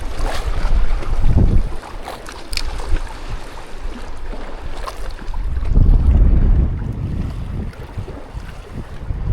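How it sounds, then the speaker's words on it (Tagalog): Strong wind buffets the microphone at a waterside fishing spot in Tacloban, rumbling gusts swelling and easing, with surf or water movement beneath and no voices. "Kaso yung baon natin ajing, sobrang mahangin."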